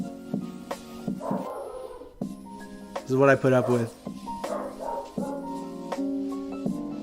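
A pet dog barks indoors in a few short bursts, with one louder run of barks in the middle, while someone talks over and between them.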